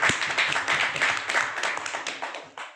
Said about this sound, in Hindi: मैं चाहूंगा कौशल सर के जोरदार ताली।